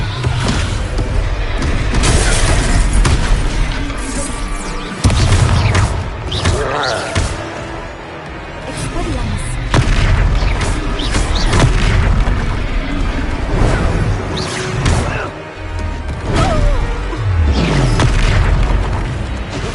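Repeated Descendo spell impacts in Hogwarts Legacy, heavy booming slams that land one after another in bursts over a noisy battle backdrop, loud and close.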